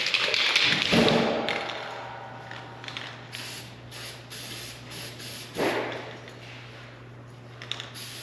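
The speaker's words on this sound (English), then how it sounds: "I'm just going to spray some welds and primer." Short hissing bursts of weld primer from a spray can on a 1964 Chevelle Malibu SS, two main sprays close by, with light taps and knocks between them in a quiet garage.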